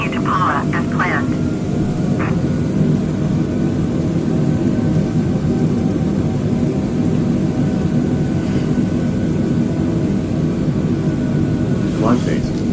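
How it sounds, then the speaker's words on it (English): Airbus airliner climbing out after takeoff in Microsoft Flight Simulator 2020, a steady, continuous engine roar and rumble held at even loudness for the whole stretch, with a few faint clicks and tones above it. "After completing the initial phase of takeoff, maintain a steady rate of climb to reach cruise altitude."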